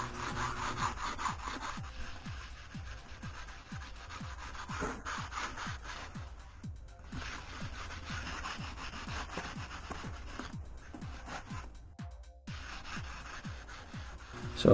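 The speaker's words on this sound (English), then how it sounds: "So here, just kind of sanding," Sanding a 3D printed Darth Vader helmet with sandpaper and sanding blocks: steady, close rhythmic rasping strokes, roughly two per second, continuing throughout with brief pauses and no talking.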